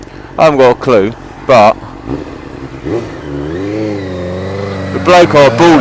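A Suzuki GSX-R600 SRAD motorcycle engine, suspected of a carburettor fault and hesitant around 2,000 rpm, hums and revs steadily under someone talking close by.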